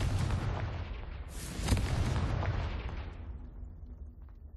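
A Confringo blasting spell in Hogwarts Legacy on the Switch 2 erupts in a loud, rumbling explosion with a sharp crack partway through, then rolls off into a fading roar, with no speech.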